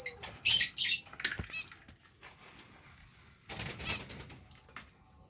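A canary being released flaps its wings in a couple of quick, close bursts near the start, followed by quieter rustling and another softer flutter later on.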